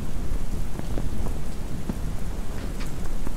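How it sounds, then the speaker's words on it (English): Steady rain pours down outdoors where a Onewheel GT is being ridden, a dense, loud hiss of drops hitting surfaces with scattered sharper splats, continuous and close throughout, with no talking. "Oh, I think the rain is gonna end our session."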